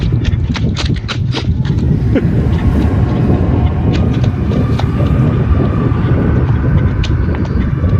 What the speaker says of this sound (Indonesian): angin Pak